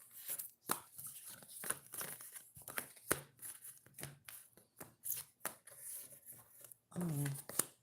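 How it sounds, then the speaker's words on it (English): Tarot cards are shuffled in bursts of crisp riffling and slapping, close and fairly quiet, with a person talking softly between the bursts. "I want to shuffle again."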